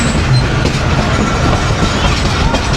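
A passenger train pulls into Pind Dadan Khan railway station in Pakistan during the Eid rush, a loud, steady rumble with rhythmic wheel clatter close by and no talk over it.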